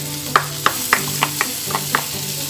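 Onion and garlic sautéing in margarine with a steady sizzle, broken by seven or eight sharp spatula scrapes and stirs against the pan at roughly even intervals, close and moderately loud.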